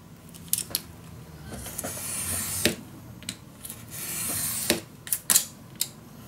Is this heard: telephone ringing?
no